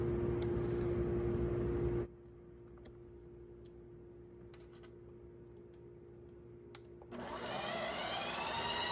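A Ninja Creami ice cream machine runs its mix-in cycle, a loud close grinding whir that drops to a quieter hum for several seconds and then climbs back to a harsh, high-pitched spin.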